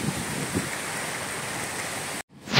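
Heavy rain pours down outdoors in Israel, a dense, steady hiss of drops hitting surfaces that cuts out abruptly just before the end.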